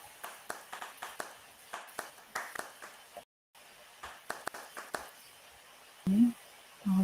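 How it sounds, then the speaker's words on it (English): A round of applause at an online art presentation: scattered, light hand claps at close range, rising and fading unevenly, with a short silent gap partway through and a brief voice near the end. "So a round of applause for Kaizen Art Sempre."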